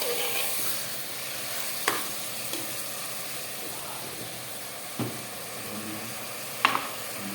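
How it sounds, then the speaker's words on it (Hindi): Mutton coated with turmeric, salt and spices is stirred in a hot pan, a steady soft sizzle broken by a few sharp clinks of the spoon against the metal. "हम लोग इसको बढ़िया से मिक्स करेंगे ताकि सारे मसाले और नमक वगैरह इसमें अच्छे से मिल जाए"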